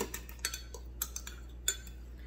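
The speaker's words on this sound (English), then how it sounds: "With a fork, you're gonna give it a stir." A fork stirs a yeast and sugar mixture in a bowl, tapping and clinking against the sides in a series of light, quick, irregular ticks over a faint steady hum, with no talking.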